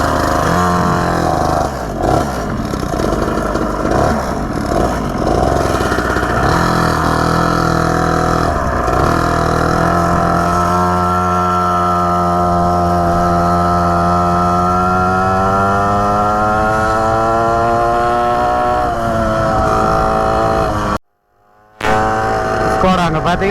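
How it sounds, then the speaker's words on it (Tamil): A mini superbike motorcycle engine running up close, a buzzing drone that rises and settles in pitch as the bike gets under way, with a voice talking over it at times and a brief dropout near the end. "ஸ்குவாட் வண்டியை ரெடி பண்ணியாச்சு."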